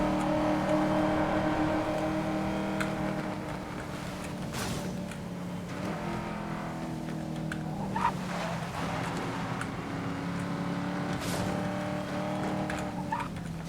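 A car driving fast in Need for Speed: Most Wanted (2012), a steady engine drone with shifting rev tones and whooshing passes, fairly loud and continuous with brief sharp clicks.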